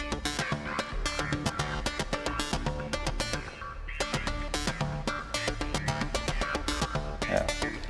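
A sequenced electronic beat layered with an added synth rhythm, in a robotic rock production style, plays as a dense, continuous groove with steady percussive pulses and sustained tones, loud and alone without talk.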